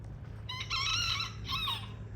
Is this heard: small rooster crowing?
yes